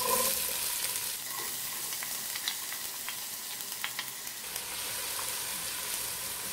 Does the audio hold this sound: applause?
no